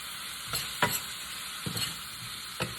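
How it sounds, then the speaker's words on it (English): Jackfruit being stirred with black pepper and onions in a pan, with a soft steady sizzle and a few spatula scrapes, close and fairly quiet. "All right, we got black pepper in there. Gonna stir that around."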